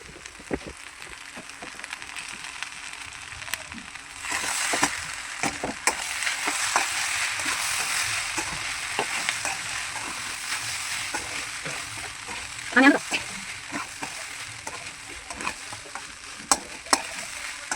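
Turmeric sizzling and frying in hot oil for poha, a steady close crackle that swells after a few seconds with occasional sharper pops and stirring clicks.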